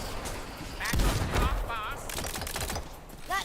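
Weapon fire in the looter-shooter video game Tiny Tina's Wonderlands, a heavy-recoil gun letting off a dense burst of loud shots layered with game effects, with a person talking over part of it.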